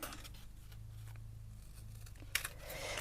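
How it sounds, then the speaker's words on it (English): Paper being cut with scissors for a junk journal cluster, a few quiet snips and rustles up close, then a sharper crisp cut near the end over a low room hum. "Okay, so I need to cut it"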